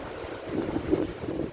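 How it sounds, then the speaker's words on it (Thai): Afternoon wind blows at an Australian beach. A soft, steady rushing breeze buffets the microphone with gentle swells of noise, moderately quiet and with no voices. "ลม"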